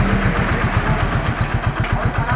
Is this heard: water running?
no